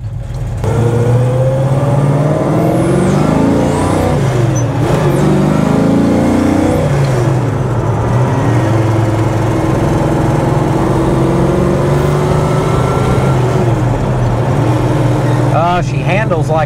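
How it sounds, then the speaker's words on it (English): A car engine fitted with Holley Sniper EFI revs hard through wide-open-throttle pulls, its pitch climbing and falling over a steady loud drone, with brief speech near the end. "Let's see what she does wide open throttle."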